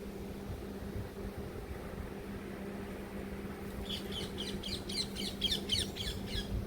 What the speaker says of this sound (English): These are green parrots. Okay, you hear the birds.